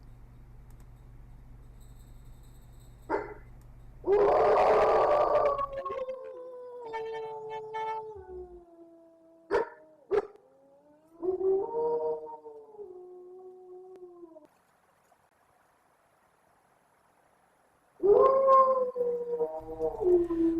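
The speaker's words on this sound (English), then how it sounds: "We also know we have some wild wolves on site, and I shared howling last week's YouTube" Wild wolves howl on a wildlife site, with long, wavering, overlapping tones. A first chorus rises and fades, sharp clicks and a pause follow, then the howls return near the end at moderate distance.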